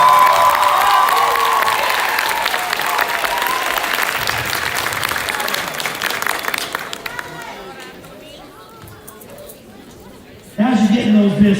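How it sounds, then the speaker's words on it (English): Loud applause and cheering from a crowd at a high school graduation, dense clapping with shouts that thins out and drops away, followed by a burst of voices near the end. "So let's give them a round of applause too"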